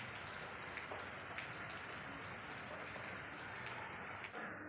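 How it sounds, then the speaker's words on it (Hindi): Heavy rain falling in Varanasi, India on a cold night, a dense steady hiss of drops pattering on surfaces, constant throughout before cutting off abruptly. "बहुत ही ज़्यादा तेज़ बारिश हो रही है"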